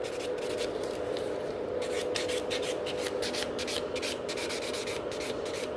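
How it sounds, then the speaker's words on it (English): A nail buffer rubs back and forth over a gel nail in a salon, making a continuous close scratchy rasp in quick repeated strokes. "And just buff the nail so it's nice and smooth."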